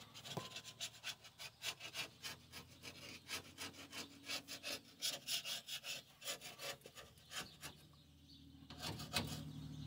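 Old gasket material being scraped off the rear differential cover surface of a 2003 GMC Sierra 1500, a quick, regular back-and-forth rasping at close range, rhythmic strokes with brief pauses near the end.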